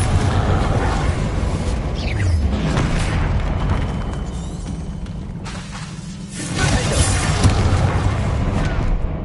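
Spell blasts from Hogwarts Legacy's Confringo and Bombarda spells: loud, continuous booming explosions with whooshing bursts that surge, briefly ease off around the middle, then swell again.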